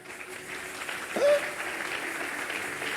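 An audience applauds at a church testimony gathering, with steady, even clapping from a crowd throughout.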